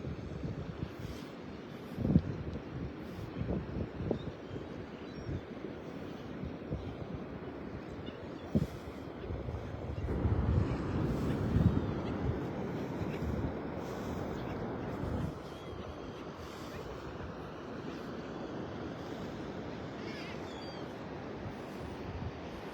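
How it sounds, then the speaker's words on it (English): Wind gusting across Clam Pass beach in North Naples, Florida on an early Sunday morning, a steady roaring rumble buffeting the microphone and swelling stronger midway, with no voices. "Can you feel the wind blowing in your hair?"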